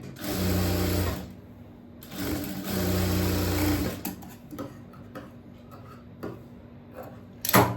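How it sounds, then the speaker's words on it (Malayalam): A sewing machine runs double stitching along a blouse seam in two steady bursts of about a second each, then stops, leaving quiet handling clicks and taps before a brief sharp noise at the end. "ഡബിൾ സ്റ്റിച്ച് കൊടുക്കണം കേട്ടോ അവിടെ."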